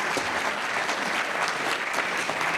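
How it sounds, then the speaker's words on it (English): Dense, steady audience applause after a labor-union talk in Chattanooga, a loud continuous wash of many people clapping with no speech over it. "give yourselves a round of applause"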